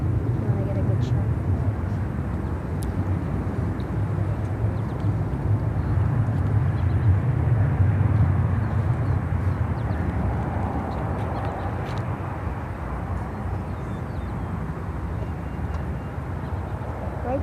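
An Atlas Air plane landing at Chicago O'Hare airport, heard as a steady, distant jet roar lasting throughout, with someone talking over it at times.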